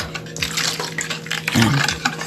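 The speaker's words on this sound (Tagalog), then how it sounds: "Lagay ang pressed milk" Condensed milk pours into a cake batter mixture with a short wet, glugging trickle and a soft plop, close by and brief.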